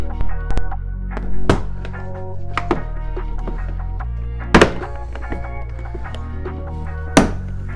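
A series of hard plastic thunks and sharp snapping pops as clips release from a Toyota RAV4 rear door panel being pulled off, with a low steady hum underneath and scattered softer knocks between.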